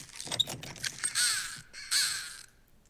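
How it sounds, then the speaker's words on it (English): Crow-like cawing from the video game Lies Beneath, several harsh calls repeating with two longer, louder caws near the middle, heard alone without speech. "Weird bird sounds."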